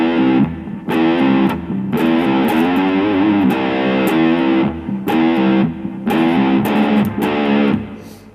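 Distorted electric guitar plays an intro riff, with repeated phrased bursts of chords and bends separated by short gaps, loud and alone.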